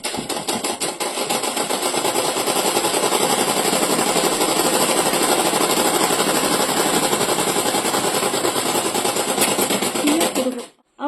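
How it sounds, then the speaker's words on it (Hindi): A sewing machine runs steadily, stitching a double seam on pajamas with a fast, even, loud mechanical chatter for about ten seconds before stopping abruptly. "तो हम इसमें डबल सिलाई लगाएंगे ताकि हमारी पक्की हो जाए"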